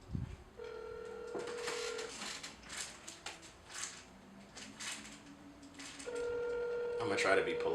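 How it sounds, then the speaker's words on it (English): A telephone sounds two tones separated by a few seconds while a call is placed, with dialing-like beeps and clicking noises around them and a voice talking faintly underneath. "let's make this phone call"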